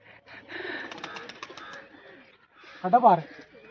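A pigeon perched on a house rooftop gives a brief, close coo near the end, after a stretch of people talking nearby.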